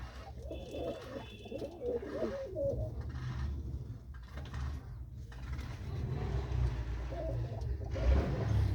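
Several loft pigeons keep up soft, rolling coos in the evening, close calls overlapping with one another over a constant low background rumble, with no voices present.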